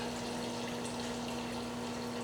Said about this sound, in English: really it's just water going in here